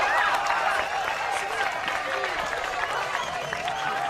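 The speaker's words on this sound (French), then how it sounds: "Un tonnerre d'applaudissements, messieurs, dames, pour Monsieur Lee Brice." Wedding party audience applauding, a dense spread of clapping and crowd noise that continues steadily for a few seconds, with a host's voice speaking over it.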